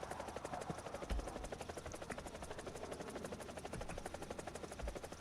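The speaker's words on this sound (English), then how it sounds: "Anyway, so another helicopter here" A helicopter in a video game whirs with a steady rotor chop that stays close and constant throughout, with no talking.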